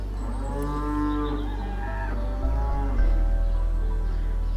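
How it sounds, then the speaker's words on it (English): Cows mooing across the way in the Irish countryside, with several long, drawn-out low moos in a row over steady outdoor background noise. "those are some cows across the way."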